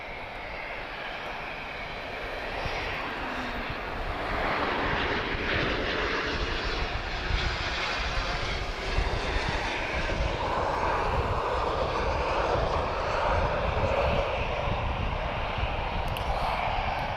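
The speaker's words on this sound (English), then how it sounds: "So this is TP1101, he's just arrived from Seville, Embraer E190, and this is leased from Bulgaria Air" The jet engines of an Embraer E190, leased from Bulgaria Air and just arrived from Seville, whine and rumble at Lisbon Airport in a steady, moderately loud hum that builds slightly, with no talking.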